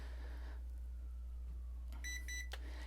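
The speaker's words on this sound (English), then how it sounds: "we want to wait and listen for a beep" An X300 FPV drone controller gives a short series of bright electronic beeps while entering headless mode, a couple of clipped tones close by after a quiet stretch over a low steady hum.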